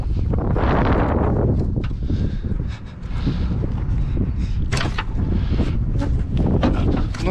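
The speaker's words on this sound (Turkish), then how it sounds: "Rüzgar da esiyor." Wind blowing across a farm yard, a steady broad rushing roar near the microphone with gusts and faint rustling throughout.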